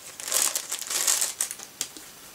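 Crinkly plastic packaging rustles and crackles close by as a large pink garland is unwrapped, with soft irregular crumpling and a few sharper crinkles, fairly quiet and without speech.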